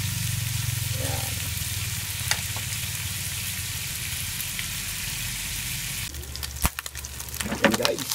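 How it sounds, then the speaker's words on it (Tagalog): Garlic fries in hot oil in a pan for a Filipino dinuguan, giving a steady close crackling sizzle that shifts near the end as the pan is stirred and scraped. "At lagyan natin yung bawang para hindi masyadong masunog. Prito muna natin ito."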